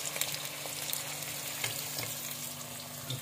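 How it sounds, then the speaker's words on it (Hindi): Onion frying in mustard oil for a fish curry, a steady close sizzle and crackle that runs without a break and has occasional soft stirring scrapes. "तेल में एक अदद प्याज सुरख कर रहे हैं, लाल कर रहे हैं, भून रहे हैं प्याज।"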